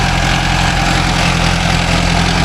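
Mahindra Arjun Novo 605 DI tractor diesel engine idling, a loud, steady, close low rumble with constant vibration and no voices.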